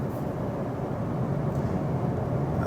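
Steady broadband rushing wind and road noise fills the cabin of a moving Toyota C-HR, a low continuous roar with no talking.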